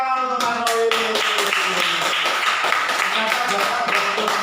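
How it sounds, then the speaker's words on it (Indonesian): Classroom of children clapping for a classmate named Mas Rohim during a lesson, a quick run of sharp, uneven claps mixed with bright tonal sounds and voices underneath. "Beri tepuk tangan untuk Mas Rohim."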